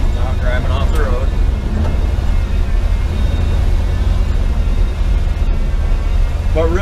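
A 40-year-old truck with triple its stock power and no turbo rumbles off road, its low engine drone and wind buffeting steady and loud beneath someone talking.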